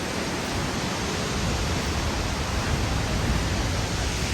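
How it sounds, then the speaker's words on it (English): Steady broadband roar of a waterfall fed from a volcanic glacier in Iceland, a dense continuous rush heard close up, with no voices or other sounds over it. "So we're gonna head now towards the waterfall, maybe climb up as well and see the view from the top"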